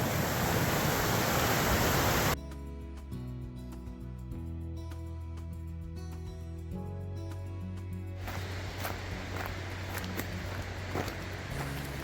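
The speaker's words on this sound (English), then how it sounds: "It's like a really pretty creek. Great flow at the moment. Probably a lot of snow runoff." A fast creek swollen with snow runoff on the Pacific Crest Trail roars as loud, close rushing water for a couple of seconds, then drops to a quieter, more distant flow with footsteps and small knocks.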